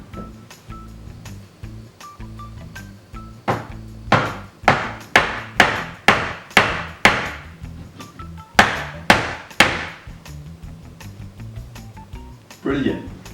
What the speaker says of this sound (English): I've got my trusty bit of timber and a hammer, and this should just tap into place.